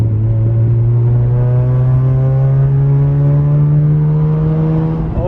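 A Mazda RX8 with a cheap eBay exhaust revs up steadily from close by, its loud droning rotary engine note climbing gradually in pitch for about five seconds before easing off at the end.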